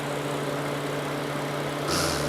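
An older Mercedes-Benz inline six-cylinder engine in a flagship sedan idles with a steady, even hum heard up close, then a brief brighter rush near the end.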